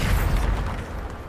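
In Hogwarts Legacy, the Bombarda blasting spell goes off as one short, heavy explosion that fades quickly, loud and close.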